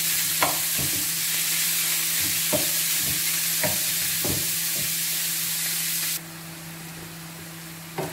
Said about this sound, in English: I'll keep on stirring it until it becomes golden brown.